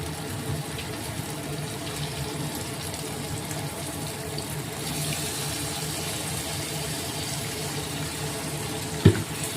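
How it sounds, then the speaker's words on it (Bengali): Water runs into prawn curry in a pan as a steady, continuous gushing hiss at moderate distance, ending with a short clatter near the finish. "এবার দিয়ে দেব প্রয়োজন মতো পানি"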